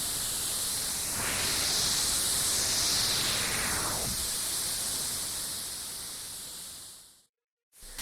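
A Pioneer DJM-900NXS2 DJ mixer's noise effect: a loud, steady wash of white-noise hiss with a swelling filtered sweep through the middle, fading out before a brief cut to silence near the end.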